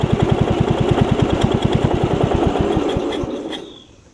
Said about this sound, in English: You can almost hear it's got a little compression leak still.